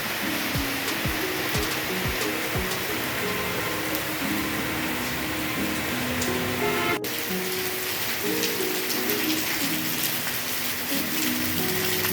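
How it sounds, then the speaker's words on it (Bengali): Steady rain falls on tree leaves as a dense, even hiss, constant and close, with a few soft knocks early on and no speech. "বৃষ্টি হয়তো বৃষ্টির পানিটা পড়ছে গাছের পাতায়"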